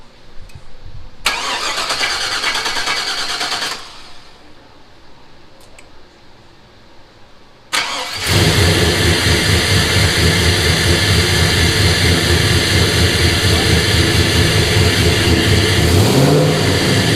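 Chevy S10 pickup with an LS V8 engine swap cranks and catches, then runs loud and close in a steady rough idle with revs rising near the end.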